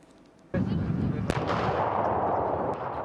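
A heavy weapon fires at a military test range, one sharp blast followed by a long rumbling roar and echo that fills the rest of the moment, with a fainter crack midway.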